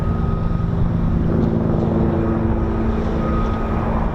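Apache helicopter flying unseen above low cloud, a steady loud drone with tonal engine hum and rotor throb, constant throughout with no talk.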